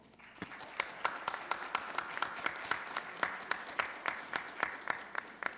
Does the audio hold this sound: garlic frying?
no